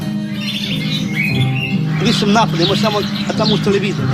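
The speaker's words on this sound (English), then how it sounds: "It's relaxing to see all the different birds." Various birds chirping and squawking around a small pool, a busy mix of high calls that grows denser and louder toward the end.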